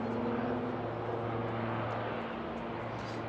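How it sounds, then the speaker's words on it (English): A helicopter passes fast overhead near a harbour bridge, giving a loud, continuous engine and rotor drone with a steady low hum that fills the whole stretch without talk. "Oh, helicopter."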